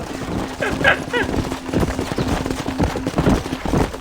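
Horses' hooves clip-clop in Red Dead Redemption, a string of close, loud hoof knocks in uneven rhythm, with a game character's voice talking over them.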